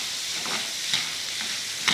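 Chana dal and onions sauté in hot oil with a continuous bright sizzle and a few soft stirring scrapes through the short stretch.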